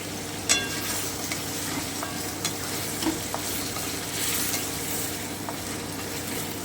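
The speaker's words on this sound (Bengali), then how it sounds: "আমি একটু ভালো করে ভেজে নিচ্ছি" Marinated chicken pieces frying over medium heat in a pan for Chicken Changezi, with a steady close sizzle, occasional sharp spoon taps and scrapes against the metal, and no talking.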